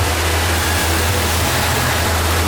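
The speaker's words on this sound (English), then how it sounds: "Look at that waterfall." An artificial waterfall inside a Rainforest Cafe themed restaurant gives a loud, steady rushing roar with a low rumble beneath it, continuous and nearby, and no talk is heard over it.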